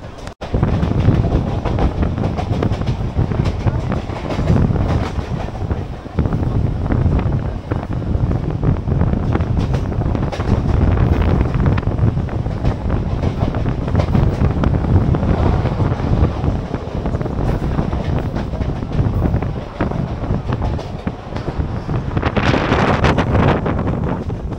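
A crowded Kolkata to Digha summer special local train rolls along with a loud, continuous rumble and heavy wind buffeting from an open window, with no clear voices.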